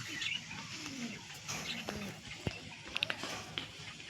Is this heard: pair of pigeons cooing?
yes